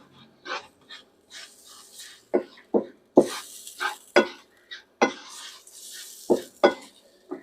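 Turmeric sautéing in extra virgin olive oil for a village-style lentil curry soup, heard as a faint sizzle broken by repeated sharp stirring and scraping knocks from a utensil against the pan, with no talk.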